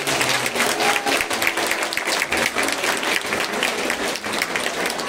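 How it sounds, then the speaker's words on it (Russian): Loud, steady applause from an audience at a school graduation ceremony marking the end of primary school, dense clapping sustained throughout without a break. "Подарим громкие аплодисменты."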